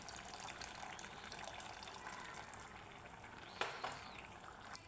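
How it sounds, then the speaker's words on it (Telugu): Soaked tamarind juice is poured into cooked leafy greens, a faint, steady liquid trickle with a couple of brief splashy spikes near the end, quiet and close. "నానబెట్టి పక్కన పెట్టుకున్న చింతపండు పులుసును అయితే యాడ్ చేసుకుందాం."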